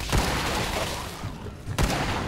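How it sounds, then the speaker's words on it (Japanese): Lever-action rifle firing in the video game Fallout 4, two sharp shots about a second and a half apart over a busy, noisy game soundscape. "この銃声かっこいい"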